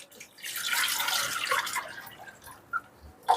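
Water poured into a cooking pot of coconut-milk curry, a soft splashing trickle for a couple of seconds that tapers off into a few faint drips.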